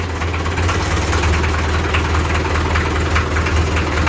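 A diesel tractor engine idles steadily after sitting since September, a close, continuous low rumble with a faint rhythmic knock, loud and unbroken without any revving.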